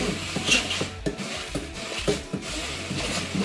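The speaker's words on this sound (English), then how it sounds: "So now I'm going to be mixing it in." Cheesecake batter ingredients are mixed by hand in a bowl, giving a run of irregular scraping and knocking strokes, close and moderately loud, with no talking.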